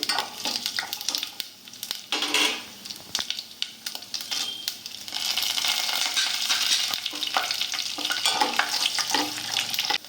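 Tempering seeds crackle and sizzle in hot oil, punctuated by sharp pops and scraping stirs against the pan, close and lively.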